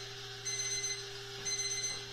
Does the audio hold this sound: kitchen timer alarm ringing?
yes